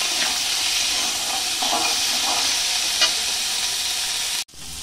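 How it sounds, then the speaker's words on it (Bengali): Capsicum and peas stir-frying together in a pan for fried rice, giving a continuous loud sizzling hiss with faint scraping of the spatula, ending in a sudden cut. "ক্যাপসিকাম আর এই মটরশুঁটি এটা আমি একসঙ্গে একটু ভেজে নিচ্ছি"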